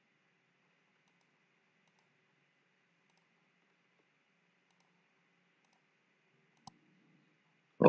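A computer mouse clicks while working in AutoCAD: two isolated, sharp clicks in an otherwise quiet room, the second louder and right at the end.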